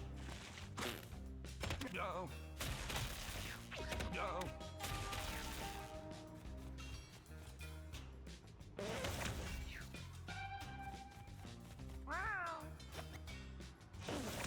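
Cartoonish cat meows from the video game Mewgenics pop up repeatedly amid busy game music and impact sounds, each short and bright over the dense soundtrack.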